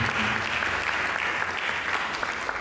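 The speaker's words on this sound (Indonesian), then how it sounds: "Berikan tepuk tangan" A church congregation breaks into sustained applause during a sermon, many hands clapping in an even, continuous wash that fills the room at moderate loudness.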